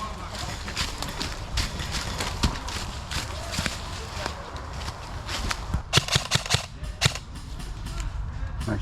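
Airsoft guns firing during an outdoor airsoft game, a series of sharp snapping shots, several in quick bursts near the end, with players talking throughout.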